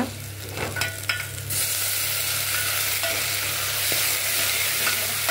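Onions, green chillies and tomato fry in hot oil. A loud, dense sizzle swells after the first second and holds steady, with a few faint stirring knocks beneath it and no voices.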